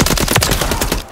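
Holger 556 rifle fire from Modern Warfare III, a rapid loud automatic burst of about a dozen evenly spaced close shots lasting around a second, with no talk.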